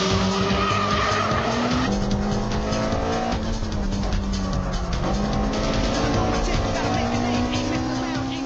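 A Toyota AE86 Trueno, rear-wheel drive, skids hard through corners, its tires squealing loudly and continuously over a steady engine drone, with a few shifts in pitch as it slides.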